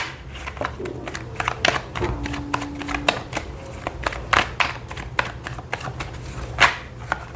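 Tarot cards being shuffled and drawn, with a steady run of quick, crisp riffling and slapping card sounds, close and fairly loud, and a few sharper snaps throughout.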